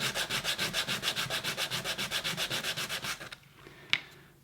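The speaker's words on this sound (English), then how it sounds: "So what we want to do is just sand it off." A wooden mallet part is sanded by hand against a workbench in quick, even back-and-forth strokes, about twenty rasping passes in a steady rhythm, then the scraping stops and a single sharp knock follows.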